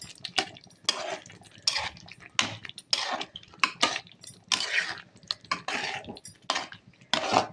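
Spoon stirring garam masala and chicken masala into chicken in a bowl for a chicken gravy curry, with repeated scraping and clinking strokes in an uneven rhythm, close and fairly quiet.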